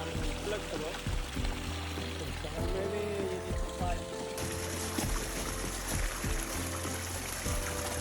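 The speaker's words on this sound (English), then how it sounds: "you'll even get to drink fresh glacier water from a stream on the iceberg." Glacier meltwater flows in a small stream across the ice of a Patagonian glacier, a steady, close pouring wash with crunching footsteps of hikers on ice and a wind rush.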